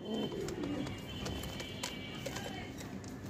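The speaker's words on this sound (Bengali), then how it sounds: "লাল রঙের মধ্যে আরো একটা জোড়া কালারিং রাজগোল্লা।" Several Raj-golla pigeons coo in low, soft bursts near and far, over a busy background of other birds and distant movement around a pigeon market.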